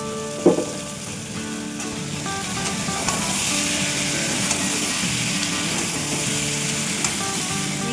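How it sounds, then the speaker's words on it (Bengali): Ginger-garlic paste frying with chili, cumin and coriander powder in a pan for a homestyle goat offal curry with potato and pumpkin, a steady loud sizzle with a brief clink of a utensil near the start. "এবার আদা রসুনের পেস্টটা দিয়ে দিলাম। একটু কষে নেব।"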